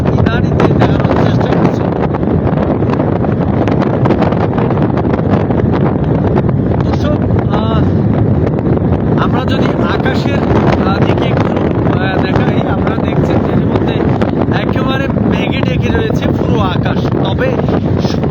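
Strong wind at a beach during a storm buffets the microphone in a constant loud roar, with someone talking underneath throughout.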